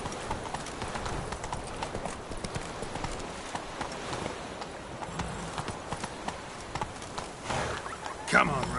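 Hooves of the horse Roach walking in the video game Witcher III, a steady clip-clop that carries on throughout the clip while a voice speaks over it.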